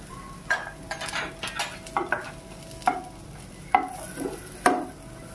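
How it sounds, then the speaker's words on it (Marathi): Grated dry coconut roasting in a pan with browned onions for a vaf vadyache kalvan curry, quiet scraping stirs and occasional sharp clinks of a spoon against the pan, with a faint sizzle underneath. "आता खोबरे भाजून घेऊ आपण"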